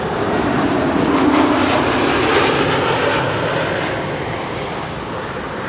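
A jet airliner approaches the Kaagbaan runway at Amsterdam Schiphol, a loud, sustained engine roar with a broad rushing drone. It swells slightly, then eases off gradually as the aircraft passes at fairly close range.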